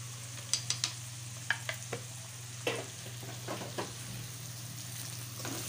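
Chicken frying in a pan with garlic and ginger powder, a low steady sizzle under scattered clicks and scrapes of stirring, fairly quiet throughout.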